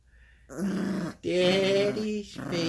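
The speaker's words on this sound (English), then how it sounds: "She's a good Yorkshire terrier doggy." A Yorkshire terrier puppy growls in two bursts while playing with a squeaky toy on a bed, close and fairly loud with a short pause between the growls.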